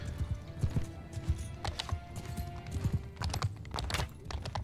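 Cavalry horses moving across a battlefield in the medieval combat game Mount & Blade 2 Bannerlord, with busy, continuous hoof clatter and scattered bursts of battle noise, fairly loud throughout.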